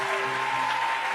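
Church congregation applauding, a short burst of dense, steady clapping from many hands filling the room.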